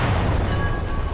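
Mortar fire and explosions in the video game Garry's Mod make a continuous loud, deep rumbling boom that fills the whole moment without any speech.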